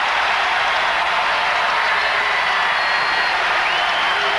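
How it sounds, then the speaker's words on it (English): Loud arena crowd at a 2004 NCAA women's basketball Round of 64 game between Minnesota and UCLA, a steady broad roar of many voices with no break. "The crowd is loud."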